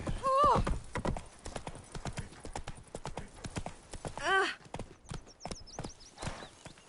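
Steady clip-clop of horse hooves at a brisk rhythm in the video game The Witcher 3: Wild Hunt, with a couple of whinnies and some voices mixed in, close and clear.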